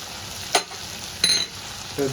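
Vegetables with mustard paste sautéing in a pan: three short bursts of scraping and sizzle from stirring, each about a quarter second, over a quiet steady hiss, with no talk.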